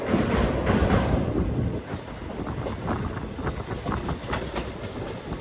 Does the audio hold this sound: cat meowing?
no